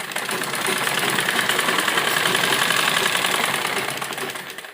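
A sewing machine runs steadily and close up, stitching the bodice seam of a pleated frock with a fast, even mechanical whir that holds for the whole stretch without a break.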